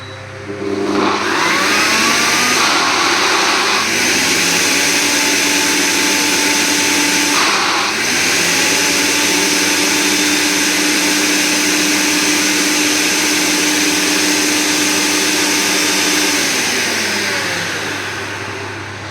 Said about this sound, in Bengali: এবার সব উপকরণগুলো নিয়ে আমি মিক্সিতে পেস্ট করে নিচ্ছি।